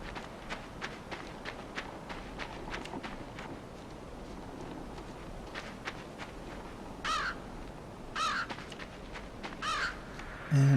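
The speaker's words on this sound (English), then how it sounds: "crow is typically considered a carrion bird" A crow caws in the dark forest of the video game Limbo, a few short harsh calls near the end over a steady low rustling ambience, with faint footstep-like taps underneath.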